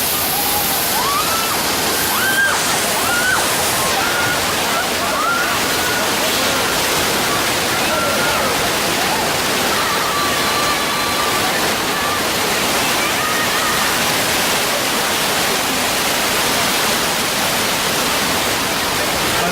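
Loud, steady rush of gushing flood-effect water on the Universal Studios Hollywood tram tour, filling the whole clip, dense and roaring with faint voices sliding through early on.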